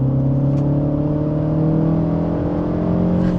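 A Mini Cooper Convertible S engine pulls steadily while driving, its close, continuous drone holding layered tones for a few seconds with no talking over it.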